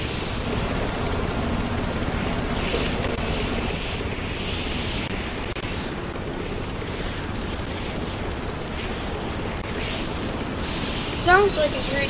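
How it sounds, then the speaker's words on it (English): Steady broadband wind rush from a flight video game, with a Spitfire in flight, roaring continuously for the whole stretch with a brief louder blip near the end. "Sounds like it's really windy for some reason"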